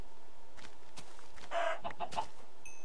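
A video game chicken clucking, a few short clucks close together in the middle of a low steady background hum.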